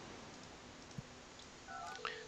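Telephone line tones in the Project Highrise game: faint dialing beeps near the end, over a steady hiss, with a soft click earlier on.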